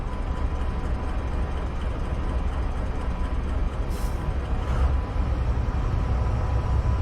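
A freight train in Train Simulator 2017 on a South Wales coastal line runs with a steady, loud, continuous low rumble and rolling noise, with no pauses.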